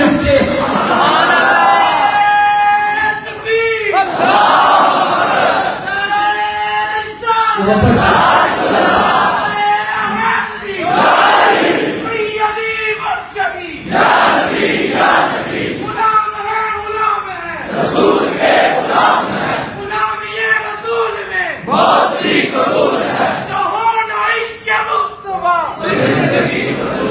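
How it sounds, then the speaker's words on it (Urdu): A large crowd chants religious slogans in loud, rhythmic unison at a Hassan Raza Naqshbandi gathering, each call rising in repeated waves over about half a minute with a dense, echoing roar between bursts. "ہم یہاں صرف نعرے نہیں لگاتے, ہم تو حشر میں بھی لگائیں گے انشاءاللہ"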